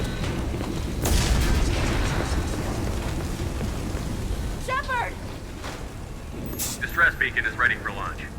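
A heavy boom rumbles through a damaged spaceship in the Mass Effect 2 video game, followed by a sustained low roar and crackle, with short electronic chirps and bursts later on.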